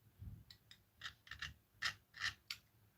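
Cutting a scale A-4M Skyhawk model part into small rings, a series of about eight short, crisp scraping strokes spaced unevenly, close and quiet with no other sound.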